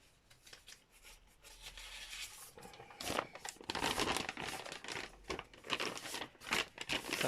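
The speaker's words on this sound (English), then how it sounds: "You're supposed to take a bit of paper and drag it across." A sheet of paper is dragged across a marbling surface, making soft crinkling and rubbing sounds that grow louder and more rasping partway through, in close uneven strokes with no talking.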